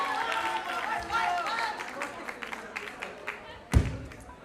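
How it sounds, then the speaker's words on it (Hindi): Audience at a college nursing fresher party clapping for a contestant after a quiz answer, scattered claps rising under a voice and then thinning out, ending in a single loud thud. "तालियां एक बार प्रवीण चरपोटा के लिए"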